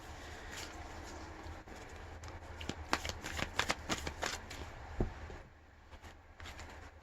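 Oracle cards are shuffled by hand in a quiet room, a soft patter of riffling and sliding card edges that rises into a busier flurry midway and then trails off, close and gentle with no talk.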